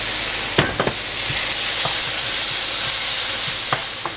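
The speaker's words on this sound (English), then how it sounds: "To our onions, we're going to add about a tablespoon of garlic." Onions with added garlic frying loudly in a pan, a dense continuous hiss with a few utensil scrapes and taps scattered through it.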